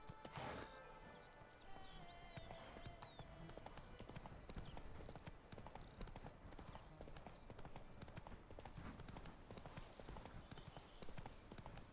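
Horse hooves clip-clop at a steady walking rhythm in a video game, a continuous run of close, moderately loud steps with birdsong and ambient game sounds underneath.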